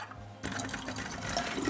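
Water from a tap starts suddenly and keeps flowing steadily for over a second while scanner parts are washed and rinsed at a sink.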